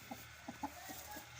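A chicken clucks softly nearby, a few short low clucks spaced apart over a quiet background.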